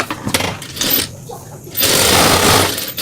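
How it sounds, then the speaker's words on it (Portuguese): A sewing machine stitches a cotton fabric bow for a children's turban headband, loud rapid chattering bursts close by, pausing briefly before a longer run of stitching. "E vou costurar a parte do laço, deixando a abertura para desvirar."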